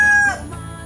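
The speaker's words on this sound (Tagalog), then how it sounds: "mga manok yun" A rooster's crow trails off near the start, fading into quiet background noise within a second.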